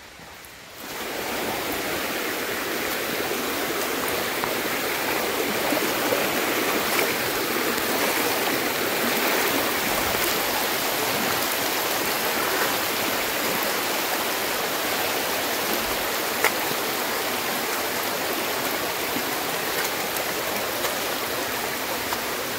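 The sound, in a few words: mountain stream flowing on the Kudremukh trek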